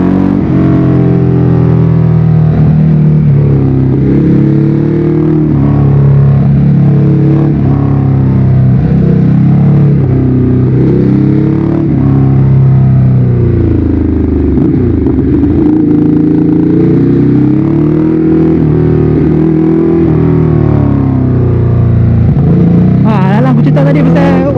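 A Ducati Hyperstrada 821 motorcycle engine hums steadily through winding corners near Balik Pulau, its low note rising and falling under continuous talk, with a brief sharper burst near the end.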